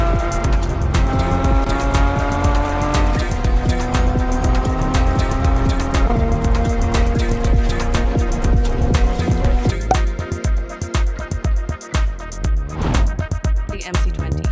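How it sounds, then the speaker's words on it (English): A Porsche 911 GT3 sports car engine revs hard, its pitch climbing through several gear changes with loud, sustained power up close, then easing into rougher, uneven rumbling at the end. "Porsche 911"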